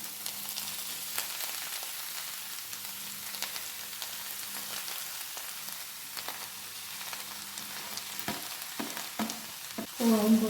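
Shredded cabbage and moringa leaves stir-fry in a pan with a continuous crackling sizzle and repeated scraping strokes from stirring, close and moderately quiet, with a louder burst of clatter at the end; no voices.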